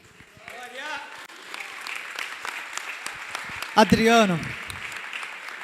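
Congregation applause at a church testimony gathering, moderate scattered clapping under a speaking voice, with a brief louder voice near the end.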